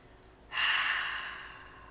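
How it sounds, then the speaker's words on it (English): During a flowing yoga session, one long breath is pushed out through the mouth with a sudden airy onset, then a soft hiss that fades over about a second and a half, close to the microphone. "breathing in through the nose, maybe exhale it out through the mouth"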